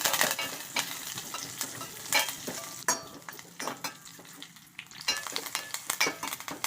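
Urad dal, cumin, mustard seeds and curry leaves sizzling and crackling in hot oil for green tomato chutney while a spoon scrapes and stirs the pan, with irregular clinks over the steady fry.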